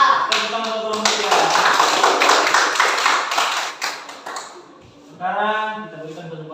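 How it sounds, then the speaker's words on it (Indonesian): Applause for a student group at the end of a classroom presentation, a dense burst of many hands clapping for about four seconds, fading out before a voice speaks. "Tepuk tangan untuk kelompok 3"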